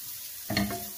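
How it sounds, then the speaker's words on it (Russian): Sliced zucchini stirred in a hot frying pan for a spicy Korean-style salad, a short burst of sizzling and scraping that starts halfway through and sounds close and moderately loud. "И сковорода достаточно горячая. Вот так вот помешивая,"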